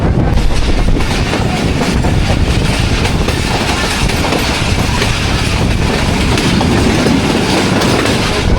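The Shah Hussain Express on the Karachi to Lahore route runs over the rails, heard from on board as a loud, constant rumble with rhythmic clickety-clack from the wheels.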